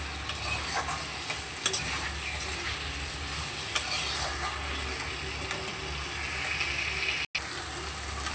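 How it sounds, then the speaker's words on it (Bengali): Spice paste for a fish curry fries and is stirred with a splash of water added, making a continuous close sizzle with scraping strokes and a couple of sharp knocks, and a brief dropout near the end. "দিয়ে আবারও ভালো করে মশলাটাকে কষিয়ে নেব।"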